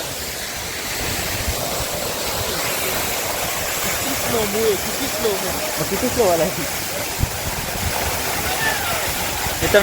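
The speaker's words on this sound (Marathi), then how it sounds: "बघा तिथे एवढं प्रेशर आहे वरून पाणी पडते" A waterfall with water falling under strong pressure roars as a steady, dense, close rush of noise throughout, while someone talks over it.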